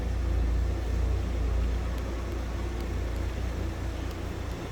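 A 1965 Ford E-100 Econoline van idles smoothly and steadily, with a continuous low engine rumble close to the microphone and no talking over it.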